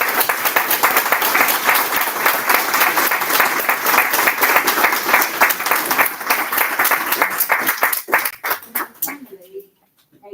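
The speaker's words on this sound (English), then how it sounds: "I want to end with a huge round of applause for all the staff here and all the tutors" A hall audience at an adult education award ceremony gives a sustained round of applause for staff and tutors, dense clapping that thins into scattered claps and fades out near the end.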